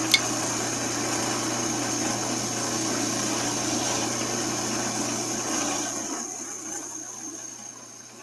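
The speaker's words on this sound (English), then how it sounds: "I use the detail gouge for that guy." A detail gouge cutting spinning wood on a lathe makes a steady scraping hiss over a low motor hum, continuous and fairly near, fading as the cut eases off near the end.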